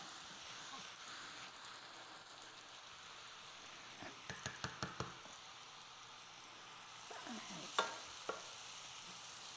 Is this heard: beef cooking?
yes